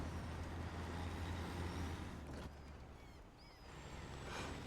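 Western Star 57X truck in the SnowRunner video game, hauling a heavy fuel tanker with diff locks engaged: a low steady engine drone with a brief airy hiss midway, continuous and fairly close, no talking.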